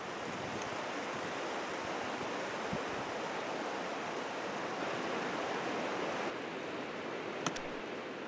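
Cold-water rapids rushing over a shale stream bed and into a pocket below an old concrete foundation, a loud, steady, close roar of flowing water with no voices.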